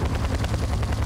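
Helicopter in the Battlefield Bad Company 2 video game, a steady low thudding rotor drone mixed with dense gunfire crackle, loud and continuous throughout with no speech.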